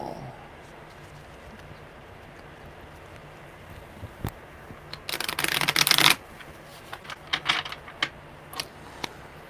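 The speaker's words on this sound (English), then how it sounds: "Okay, one more good shuffle." Tarot cards being shuffled by hand in a quiet room, a burst of dense riffling and flicking in the middle with lighter scattered card taps before and after, close and alone.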